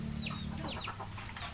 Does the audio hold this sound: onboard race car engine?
no